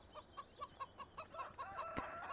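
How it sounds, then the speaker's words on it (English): Chickens cluck in Farming Simulator 17, a steady run of short, rhythmic clucks from a few nearby birds, growing busier and denser toward the end. "Hey, chickens. Hey, Mr. Rooster. Henry."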